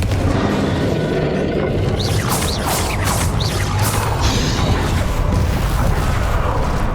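Fire spell blasts and booms in the video game Hogwarts Legacy, loud and dense, with a steady rumbling roar and several sharp bright bursts crackling through the middle of the battle.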